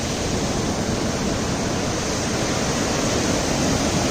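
Ocean surf washing up on the shore at Seven Mile Beach in Negril, Jamaica, heard as a loud, steady broadband roar with no breaks and no voices.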